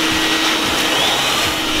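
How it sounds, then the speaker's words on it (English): Several vacuums and pumps roar together at close range, a loud continuous whine with a broadband hiss, as balloons are inflated to fill an office. "Really loud in there. Too many vacuums, too many pumps."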